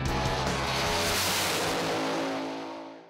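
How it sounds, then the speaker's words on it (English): A big block Chevrolet Camaro races hard at Hampton Downs track, its V8 roaring loud and close with tire noise as it passes, then fading toward the end. "this one is a Camaro, and it's a big block,"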